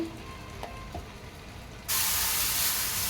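Oil sizzles loudly on a hot griddle pan while pesarattu cooks, a steady broadband hiss that swells abruptly partway through and holds, close and continuous with no talking.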